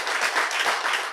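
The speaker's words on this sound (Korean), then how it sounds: "박수 한번 칩시다" An audience at a Korean lecture-style talk bursts into steady applause, a dense wash of many hands clapping together, fairly close and even throughout the short stretch with no speech over it.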